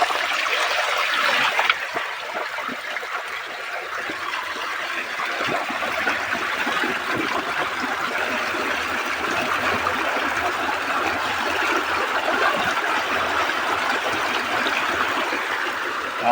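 Water rushing steadily out of a pipe on a farm after the handle is turned, a continuous hiss-like flow at moderate loudness that barely changes throughout.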